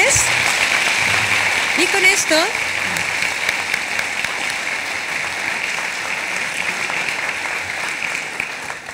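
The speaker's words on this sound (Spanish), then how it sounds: "Les pedimos otra vez un fuerte aplauso para el doctor Luis Felipe Rodríguez." Audience applause for Dr. Luis Felipe Rodríguez fills a hall with steady, even clapping, while a voice briefly speaks over it near the start.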